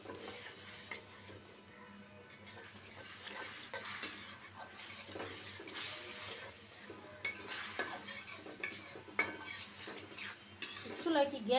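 A cook stirs a thick spice paste of turmeric, coriander powder, chili powder and water in a pot on a gas stove, with close, steady scraping and sizzling and occasional clinks of utensil against metal; no one speaks.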